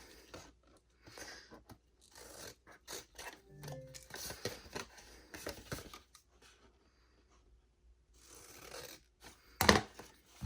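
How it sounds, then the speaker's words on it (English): Scissors snip through card stock at the corners, giving quick crisp clicks and scrapes in short bursts with pauses, close and fairly quiet, ending on one sharper snip. "So let's cut these corners at a diagonal."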